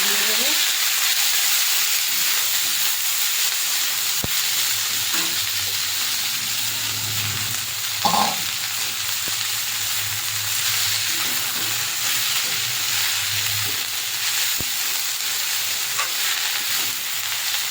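Grated garlic and chopped red amaranth leaves fry in a pan with a steady, loud hiss and sizzle that runs unbroken, with a few faint clinks of stirring and no talking.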